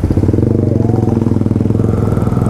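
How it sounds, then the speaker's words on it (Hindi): A loud motorcycle engine runs close by with a steady, throbbing rumble that stays heavy and constant throughout. "मैं देखूँ पता नहीं कौन सी लाउड सी बाइक आ रही है।"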